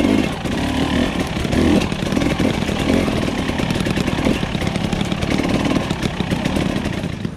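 A Husqvarna TE300i two-stroke dirt bike engine runs loud and close with a raspy, uneven rev that never settles to an idle, sustained throughout without any speech.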